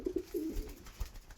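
Breeding hen pigeon in an aviary gives a short, soft, low coo close by, followed by faint rustling, with no talk.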